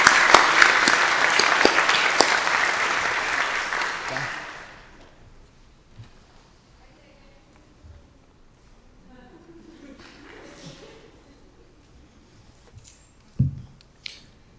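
Graduation ceremony audience applauding graduates, a dense burst of clapping for about four seconds that quickly dies away into near silence with a few faint scattered noises.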